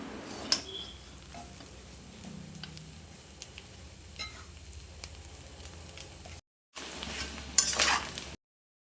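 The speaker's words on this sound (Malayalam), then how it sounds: "ഫുള്ളായി ഡ്രൈ ആയി വരുന്ന ഈ ഒരു പരുവം വരെ നമ്മളിത് അടച്ചു വെച്ച് പിന്നെയും ഇളക്കി കൊടുത്തുകൊണ്ടേയിരിക്കണം." Beef dry fry stirred in a covered pan, with steady soft sizzling, a few light utensil scrapes and clinks against the pan, then a brief stronger burst near the end after a short gap.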